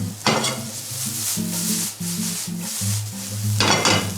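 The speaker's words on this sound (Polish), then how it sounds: "Za 5 sekund gaszę smażenie, inaczej czosnek będzie spalony." Garlic sizzles steadily in a hot pan, with scraping stirring strokes and a low hum underneath.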